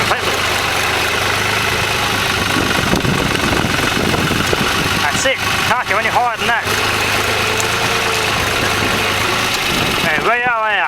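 A tractor engine runs steadily and close by while clearing old tree roots, a constant droning hum with a few rising strains. Someone speaks briefly near the end.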